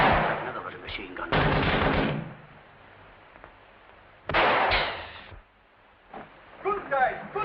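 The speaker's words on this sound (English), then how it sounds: "Another Russian machine gun." Russian machine gun fire in a WWII war film, heard as several loud bursts of gunfire spread across the scene, with quieter gaps and some voices between them.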